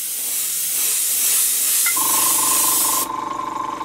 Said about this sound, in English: We'll then mask the next one, but we spray over both parts.